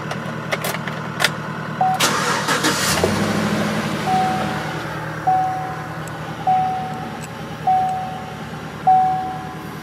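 Chevy Tahoe with an LS V8 fires up and settles into a rough idle with a misfire, a steady low rumble broken by a faint repeating tick every second or so, with no talk over it.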